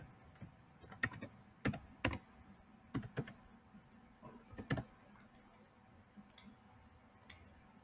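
A password is typed on a computer keyboard, quiet irregular keystrokes clicking close by in short bursts with pauses between them.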